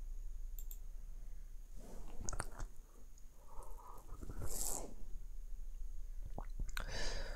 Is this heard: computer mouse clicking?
yes